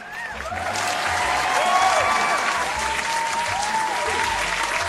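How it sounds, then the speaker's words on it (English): An audience claps loudly and steadily for Nikki, the dense applause swelling over the first couple of seconds and holding, while a few whoops and cheering voices rise above it. "Can we get some applause for Nikki, please?"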